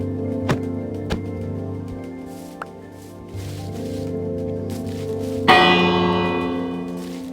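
Village bell in Minecraft rung repeatedly, bright metallic strikes with long ringing tails layered over a sustained tonal drone, a louder clang near the end, no voices.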